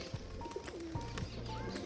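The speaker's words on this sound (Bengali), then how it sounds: "এই দুটো পায়রা আমি হাতে করে নিয়ে যাচ্ছি" Pigeons carried in someone's hands coo softly in short, repeated calls beneath a steady wash of broadband background noise.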